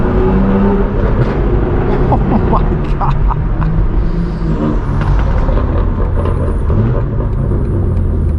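Straight-piped BMW M4 G82 exhaust at a BMW M-only car meet gives a steady loud rumble with a higher-pitched hum, other engines idling around it and a voice exclaiming briefly over the noise.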